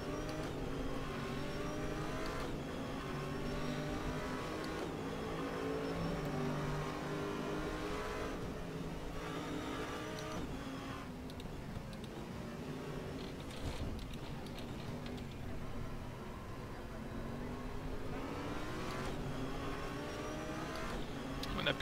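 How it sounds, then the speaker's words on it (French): Race car in the RaceRoom racing game at Sonoma Raceway, engine revving and accelerating steadily through gear changes, loud and continuous for about twenty seconds, with no talk over it. "sur les freins, la voiture est super réactive, mais c'est vraiment l'accélération où il y a une grosse différence."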